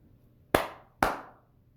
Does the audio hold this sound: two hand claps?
yes